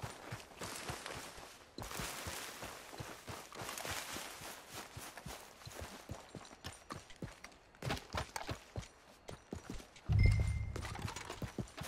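Steady clip-clop of horse hooves at a brisk trot in the video game Red Dead Redemption 2, close and rhythmic, ending with a heavier thud.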